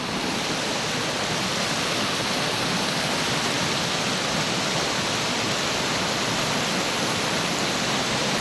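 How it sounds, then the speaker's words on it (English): A steady, roaring rush of falling water, broadband and unchanging, loud and continuous with no other sounds. "look at this waterfall, guys"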